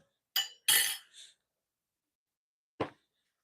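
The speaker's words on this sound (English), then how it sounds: "Put the lid on it and give it a shake." A lidded glass jar holding about two cups of homemade vanilla extract is handled and shaken, giving a few short, sharp clinking bursts separated by silence, with one final knock after a pause.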